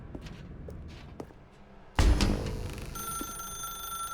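Telephone ringing in The Stanley Parable Ultra Deluxe, starting with a sharp thump, then a steady electronic ring that continues over footsteps and faint room ambience.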